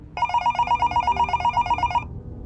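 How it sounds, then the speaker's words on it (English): A hotel room telephone ringing with a steady, rapid electronic trill, loud and close, for about two seconds before it stops abruptly over a faint room hum. "when the phone rang."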